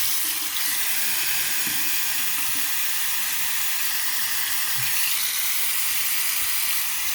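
Tap water runs steadily over a Fitbit Sense smartwatch held under the faucet, a constant close hiss and splash with no talk.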